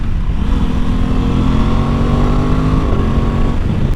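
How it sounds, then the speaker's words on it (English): An Aprilia Tuono 660 motorcycle, a 2021 model, is ridden hard with its exhaust note loud and close, a steady rising engine drone with harmonic tones that climb, hold, then drop near the end, mixed with wind rush. "the exhaust sounds good when you're on it"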